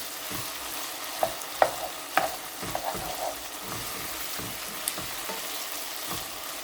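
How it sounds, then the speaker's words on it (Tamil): Mutton sizzles quietly in a pan while a spoon scrapes and stirs it, giving a few sharp clinks against the metal over a steady frying hiss. "இப்போ அடிக்கடி நீங்கள் கிளறி விடணும், இல்லாட்டி கீழே பிடிச்சிடும்."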